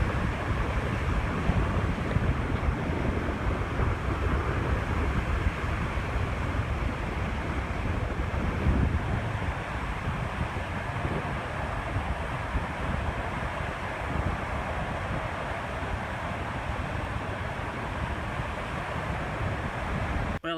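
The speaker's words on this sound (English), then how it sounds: "I'm thinking they're more like 25 or 30 mile an hour. The swells are really increasing." Strong wind of about 25 to 30 mph and building lake swells break on the shore of North Manitou Island, a dense, steady roar of gusting wind and surf with no pauses or voices.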